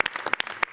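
Scattered hand claps from an audience at a mayor's announcement, a handful of sharp close claps in quick irregular succession, brief and moderately loud.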